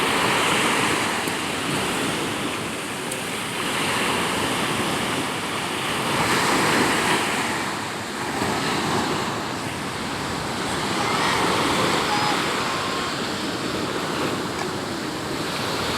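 Ocean waves surge and wash in a steady, loud roar during a storm, with gentle swells rising and falling and some wind rumble.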